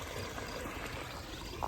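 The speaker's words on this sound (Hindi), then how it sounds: "बगल से ये हल्का सा पानी जाते हुए नहर से।" Faint, steady trickle of a thin stream of water running along a small canal beside a wheat field in a Garhwal village near Srinagar, a soft continuous wash with no talking.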